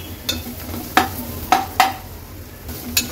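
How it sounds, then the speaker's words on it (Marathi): A paste of ground coconut, ginger, garlic and onion fries in oil in a pan, with a steady low sizzle broken by a few sharp stirring scrapes, close by and fairly quiet, no voices. "वाटण देखील तेलामध्ये छान परतून घ्यायचंय।"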